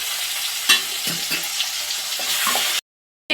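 Tomato, tamarind and salt sauté in a pan, sizzling close with a few sharp stirring scrapes and clatters before cutting to silence near the end.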